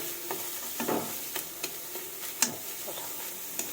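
A cooked dish is stirred in a pan as it reduces and thickens, giving a soft steady sizzle with a spoon scraping and tapping the pan in scattered light knocks, close and fairly quiet.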